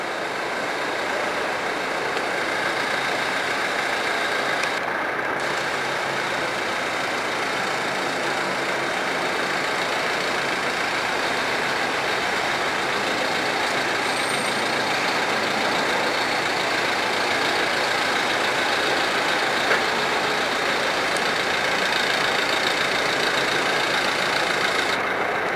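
Steady, loud engine drone from a test vehicle during an automated driving license test, a continuous mid-range hum that holds without pause for the whole stretch, with no talk.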